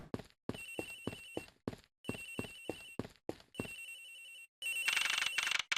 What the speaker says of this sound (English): The ring is coming from somewhere in here, sir.